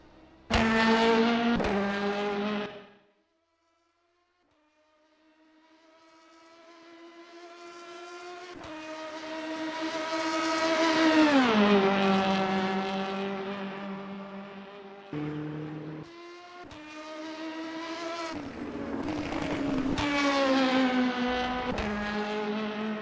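LMP2 and other race cars in rFactor 2 at a Le Mans six-hour endurance race, engines rising and falling in pitch as cars pass, with a brief gap of near silence before the roar resumes; no talk.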